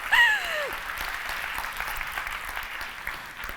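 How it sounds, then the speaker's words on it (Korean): A lecture-hall audience claps in a steady, fairly faint round of applause, with a short vocal sound at the very start. "박수 쳐주세요"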